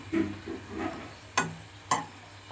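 A sugar paratha frying in a pan, soft sizzling under a few light scrapes, then two sharp clinks of a utensil against the pan, close by with no voices.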